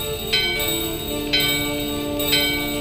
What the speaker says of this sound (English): The bell in your hand and the doorbell are ringing.